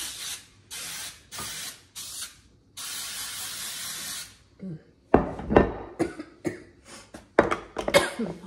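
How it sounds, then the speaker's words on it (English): Several short hissing bursts from an aerosol can, then one longer spray, followed by a few knocks and clatters nearby. "Hold your breath when you spray that stuff."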